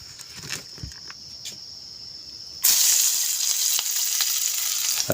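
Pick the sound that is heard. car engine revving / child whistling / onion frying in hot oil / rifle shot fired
onion frying in hot oil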